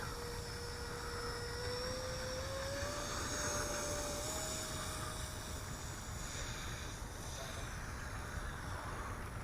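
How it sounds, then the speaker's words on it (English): A small eFlite F-15 Eagle RC model jet with a 64mm electric ducted fan takes off outdoors with a brief bounce, its steady high-pitched whine rising slightly in pitch and holding loud and close throughout. "One little bounce hop takeoff."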